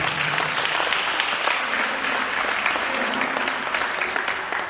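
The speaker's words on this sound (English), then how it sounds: "I think that deserves a round of applause." A room full of people applauds steadily, a dense wash of clapping that holds at an even level for the whole stretch.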